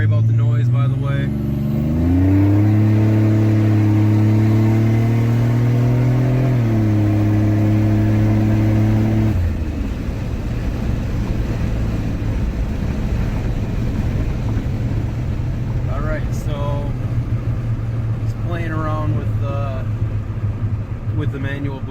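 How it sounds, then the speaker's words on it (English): A turbocharged car engine runs through a 3-inch downpipe with a manual boost controller and the rest of the exhaust disconnected. It revs up, holds a raw, loud drone, then drops to a rough idle, with a voice speaking over it. "Just running the 3-inch downpipe right now."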